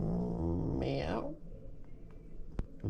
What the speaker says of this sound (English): Who's a good pussycat?